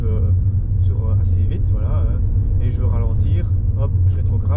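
A Volkswagen Passat CC 2.0 TDI diesel engine drones low and steady beneath a person talking, engine braking after a downshift, the rumble holding constant as the car slows.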